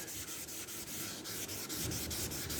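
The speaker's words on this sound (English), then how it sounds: "I'm going to have to pull back a little bit now and rub up to the edge" Steady abrasive rubbing of sandpaper over primer on a Honda ST 1100 motorcycle panel, a continuous close scratchy hiss with faint rhythmic strokes, no voices.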